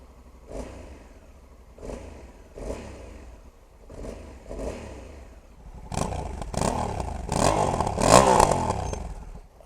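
A 2020 Honda Africa Twin 1100 adventure motorcycle engine fires with repeated short throttle blips, then settles into a louder, sustained rev with rising clatter toward the end, close by.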